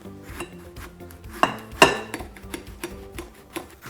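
A knife slices down through a watermelon into a bowl for cubing, making two sharp, close crunching cuts amid soft scraping and light clatter.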